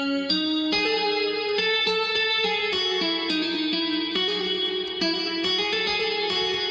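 Sustained synth chords drenched in shimmering chorus (Super VHS plugin) and reverb with a warm, slightly saturated edge, shifting through a continuous progression.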